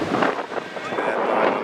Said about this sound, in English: Really windy, guys.